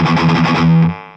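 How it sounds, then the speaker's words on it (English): A distorted electric guitar plays a short, loud palm-muted riff with the first beat of each group accented. The chugging ends with a held note that cuts off quickly. "Now if I accent every first beat, it'll sound like this."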